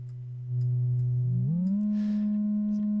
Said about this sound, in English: We're going to drop the test tone in there.